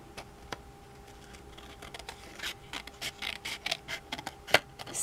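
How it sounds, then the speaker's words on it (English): Scissors snipping through vellum paper around a butterfly die-cut shape, a run of small crisp cuts and scratchy clicks close by, quickening and growing sharper toward the end, with no voices. "My scissors go sideways, so it go under."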